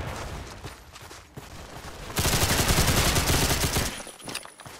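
Loud video game gunfire in a Roblox gun game: scattered shots and clatter at first, then a dense, sustained burst of rapid automatic fire close by that stops before a few trailing pops, with no talking.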